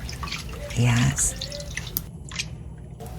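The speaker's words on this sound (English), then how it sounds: "Now we're gonna let the water go down and drain it." Water drips and drains from rinsed cabbage for kimchi in a kitchen, soft splashes and trickles close by, with a person briefly speaking over it.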